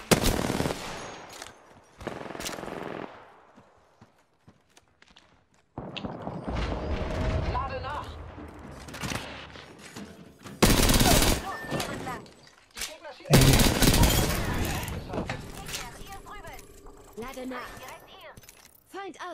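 Gunfire in an Apex Legends match, separate bursts of automatic shots with quiet gaps between them, some close and loud, plus mechanical weapon handling and a player talking in German.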